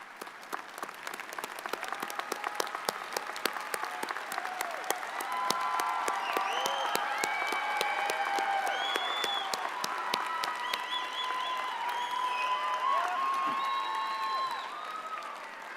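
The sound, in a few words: audience applause at a graduation ceremony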